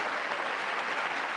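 A State of the Union audience applauds and cheers in a dense, steady burst of clapping, fairly distant and unbroken for a moment, with no voices standing out.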